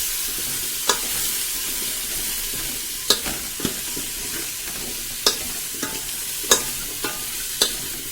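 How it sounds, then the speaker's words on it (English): Radish and tomatoes frying in oil for a Karnataka-style sambar, a steady sizzle with regular sharp scrapes and clinks of a spoon stirring the pan, close up. "we actually add this in the oil, so that it gets slightly blanched"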